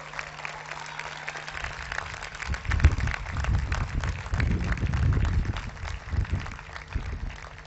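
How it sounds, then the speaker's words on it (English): An audience at a university convocation applauds graduating students. The applause is dense and broad with a low rumble, and it swells to a fuller peak midway before carrying on steadily. "You deserve a huge round of applause."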